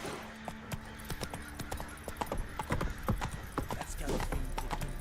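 The horse Roach gallops in The Witcher video game with rapid, rhythmic hoofbeats close by. A brief neigh and some game voices are heard over the hooves.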